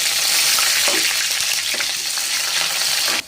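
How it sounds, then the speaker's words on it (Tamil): Onion drops into hot oil alongside curry leaves and urad dal, giving a loud continuous close sizzle with a few stirring scrapes and a brief dip at the very end. "இப்போ நம்ம வெங்காயத்தை போடணும்"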